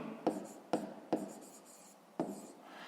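A pen writing on paper while working a fifth-grade maths exercise makes four quiet, separate strokes, each a short scratchy burst followed by a soft trailing rub, in an otherwise quiet room.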